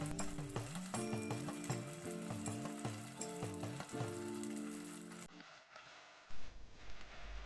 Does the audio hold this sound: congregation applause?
no